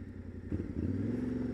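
A motorcycle idles close by with a steady low engine chug. Its rumble thickens briefly as the rider eases it to a stop.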